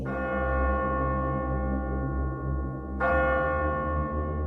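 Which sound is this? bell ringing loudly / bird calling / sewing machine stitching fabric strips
bell ringing loudly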